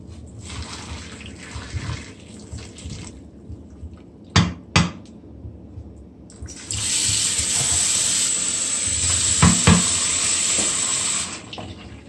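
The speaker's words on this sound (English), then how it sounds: "I'm just gonna pour the boiling water over" Boiling water pours steadily over cow foot in a vessel, a continuous splashing rush following a couple of sharp knocks, with faint background noise beforehand.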